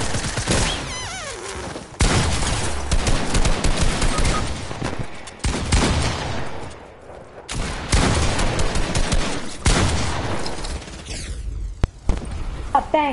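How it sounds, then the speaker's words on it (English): In a video game, a turret fires in long, loud bursts of rapid gunfire separated by brief pauses, with booming impacts mixed in and a voice now and then. "I'm gonna have to use the turret."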